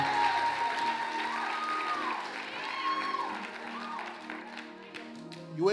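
A church congregation at a Mother's Day service applauds steadily, a dense wash of clapping under amplified talk and sustained tones, with scattered cheers rising toward the end.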